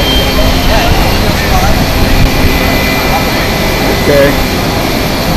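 Space Shuttle Endeavour riding on its carrier jet circles before landing, heard as a loud, steady jet roar over windy airport ramp noise, with people talking.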